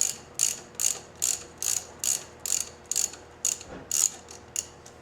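A ratchet wrench loosens the axle pinch bolts on a Victory XC motorcycle, clicking in about a dozen evenly spaced bursts, close and fairly quiet with no talk.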